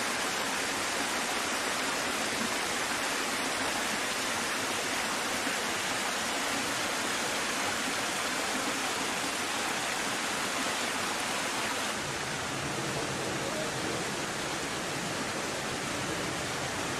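The waterfall in Hundikuristik canyon in Kadriorg, Tallinn, pours in a steady, loud, broadband rush that holds unbroken throughout, with no voices.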